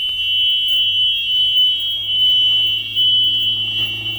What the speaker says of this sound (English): I can hear the buzzer.